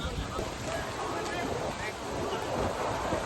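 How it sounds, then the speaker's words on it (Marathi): Stormy wind with heavy rain before a political rally in Maharashtra, heard as a steady, loud broadband roar of gusting wind and downpour with no break, and no voices over it. "वादळी वाऱ्यासह पावसाला सुरुवात झालेली आहे।"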